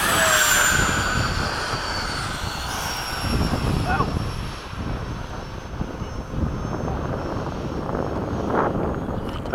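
Freewing 80mm MiG-21 RC jet flying in breezy conditions, its steady ducted-fan whine roaring continuously near and loud with gusting wind, briefly swelling and fading as it passes, while people talk over it.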